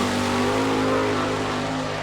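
Butch Schrader's number 7 sprint car, sponsored by Peterbilt, accelerates off turn four for the green flag at Selinsgrove, PA, producing a loud, sustained, harsh engine roar that holds steady throughout.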